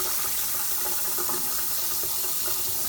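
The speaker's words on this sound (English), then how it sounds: "you want to make sure that the meat is thoroughly cleaned. Rinse it off." Tap water runs steadily over raw beef being rinsed for a casserole, a loud continuous splashing hiss under the faucet with no talking.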